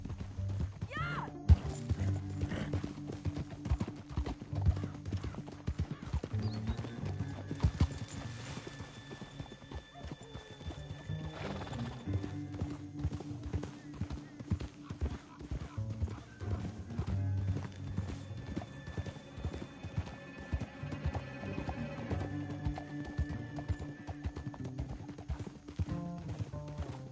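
Galloping horses in a PS4 video game: steady clip-clop hoofbeats running throughout with an occasional neigh, set under a continuous game soundtrack and effects.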